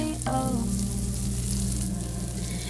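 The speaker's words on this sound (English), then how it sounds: "while that butter is melting, I'm going to go ahead and add in about half of a teaspoon of minced garlic" Minced garlic sizzles in melting butter in a pan, a close, steady frying crackle that carries on without pause.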